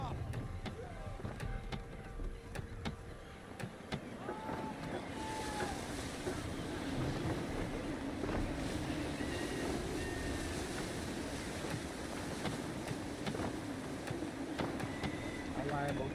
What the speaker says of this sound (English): Gusty winds can be difficult to manage.